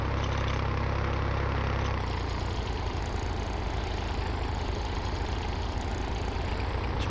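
A small tractor in Farming Simulator 19 drives along with a loud, steady, low engine drone that stays constant throughout, its pitch shifting slightly after the first couple of seconds.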